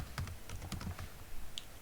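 Login details typed on a computer keyboard, quick separate key clicks in small bursts, close and fairly quiet, with no speech.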